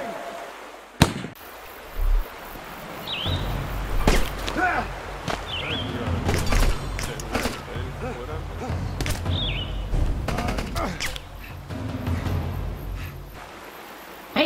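Gunfire in Rambo the Video Game cracks and snaps in scattered sharp bursts over a busy, noisy background, with voices shouting at times.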